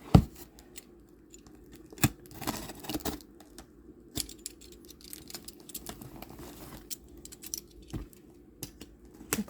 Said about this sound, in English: I have it taped up pretty good, and I hope I'm not cutting anything.